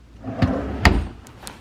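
Hotel room drawers sliding open and shut, with two distinct wooden thumps about half a second apart and fainter knocks after, close by in a quiet room.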